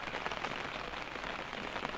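Heavy rain pours down in the mountains during a storm, a steady, dense hiss that holds at an even loudness throughout, with no voices.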